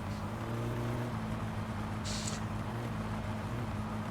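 A car in My Summer Car drives along with a constant low engine drone, steady and loud throughout, with a brief high whine partway through.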